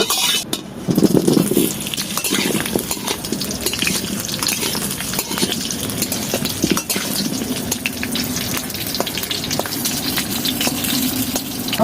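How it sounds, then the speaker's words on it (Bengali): Potatoes frying in hot oil in a wok for a Bengali mutton kosha, a constant hiss of bubbling oil with scattered clinks and scrapes of a spatula against the pan, close and fairly loud, no speech. "তো এখন তেলটা ভালো করে গরম করে নিলাম, নিয়ে এবার আলুটা একটু লাল লাল করে ভেজে নেব।"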